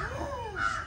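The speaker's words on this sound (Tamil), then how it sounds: "காக்கா வேற வருது." A crow gives a single short caw, close and fairly loud, rising and falling over a faint outdoor background.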